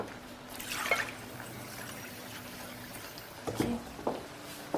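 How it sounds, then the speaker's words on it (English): Water is poured into a pot of yam pottage on the stove, a faint trickle and dribble with a few clinks of the pot in a quiet kitchen, no talking. "Add a little bit of water. Let's add some water."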